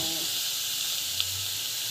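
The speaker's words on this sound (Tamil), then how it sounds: "சோம்பு போட்டு நல்லா வந்து வதங்கிட்டோம்." Fennel seeds and onions sautéing in a hot pan give a steady, soft sizzling hiss that runs evenly throughout, with a faint low rumble underneath and no talking.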